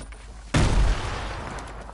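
One sudden, loud shotgun blast in the video game Fortnite, with a heavy boom that decays into a lingering rumble.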